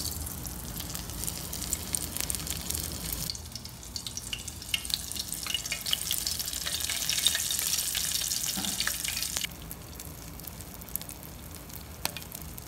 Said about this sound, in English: So I'm really frying them up good